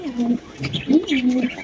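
Pakistani-breed double-ring pigeons coo close by in two soft, rolling phrases with a short pause between them. Faint background noise sits beneath the calls.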